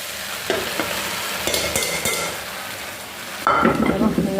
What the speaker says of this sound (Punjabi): ਇਹਨਾਂ ਨੂੰ ਮਿਕਸ ਕਰਕੇ ਭਿੰਡੀਆਂ ਰਲਾ ਲਈਏ